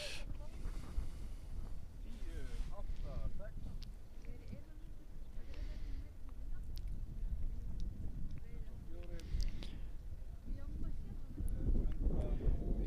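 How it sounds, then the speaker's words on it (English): Steady wind buffets the microphone at an outdoor archery range during a national compound and barebow championship final, a continuous rumbling roar throughout with a voice talking faintly underneath. "May look okay out there with no rain, but it's still very windy, which makes it very challenging to shoot in."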